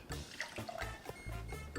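A quarter cup of water pours into a fajita marinade of olive oil and lime juice, a short close splash and trickle with a few gurgles.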